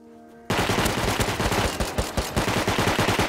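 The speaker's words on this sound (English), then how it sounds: "That's like an AK or something outside," Automatic AK rifle fire outside in the video game Rust, a loud sustained stream of rapid rhythmic shots starting abruptly after a quiet moment and continuing without pause.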